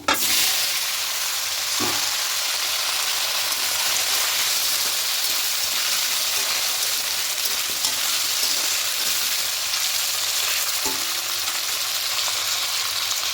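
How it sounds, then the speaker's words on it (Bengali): Vegetables for khichuri frying in a pan, a steady close crackling sizzle with a couple of brief knocks from stirring. "সবজিগুলো একটু হালকা লাল লাল করে ভেজে নেব"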